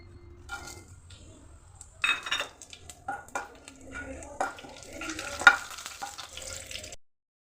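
Sliced onion frying with whole garam masala spices and bay leaf in a pan for egg masala, a soft crackling sizzle with intermittent stirring clinks and scrapes, fairly quiet and close.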